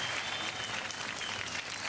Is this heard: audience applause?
yes